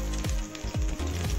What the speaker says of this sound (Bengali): খুব সুন্দরভাবে মাঞ্চুরিয়ানের কপিগুলো ভাজা হচ্ছে।